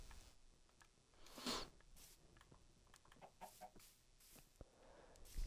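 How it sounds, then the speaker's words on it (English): A Minecraft chicken clucks in the video game, with several soft, quiet clucks and scattered short bursts spread over a few seconds, with no talking. "wonder if I can attract that chicken."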